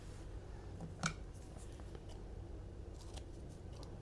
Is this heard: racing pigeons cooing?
no